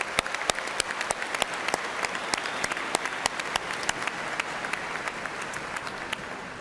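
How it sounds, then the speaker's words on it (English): A university commencement crowd applauds steadily, a continuous wash of many hands with a few sharper nearby claps standing out, sustained throughout. "One more round of applause."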